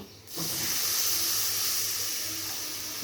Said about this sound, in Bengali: তারপরে এবার আমি জল দিয়ে দিব